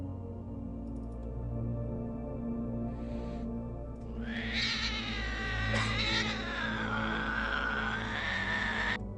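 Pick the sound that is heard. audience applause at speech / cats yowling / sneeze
cats yowling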